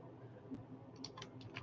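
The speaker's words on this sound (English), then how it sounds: "I'm just typing stuff up." Light, quiet typing on a computer keyboard, a loose run of soft clicks and taps close by with no talking.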